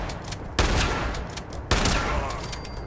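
Shotgun fire in the video game Fallout 76, two loud, sharp blasts about a second apart, each followed by a brief decaying echo, with no talking.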